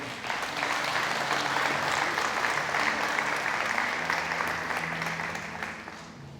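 A church congregation claps together during a worship service, a dense sustained wash of applause that holds steady for several seconds before thinning slightly at the end.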